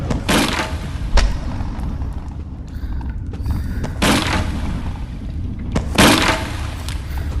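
Gunfire in the video game Animal Company: a few loud booming shots spaced a couple of seconds apart over a rumbling game background, with no speech.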